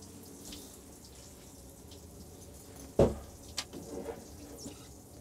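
Hot water tap running in a motorhome, a faint steady stream with a sharp splash and a few clatters partway through.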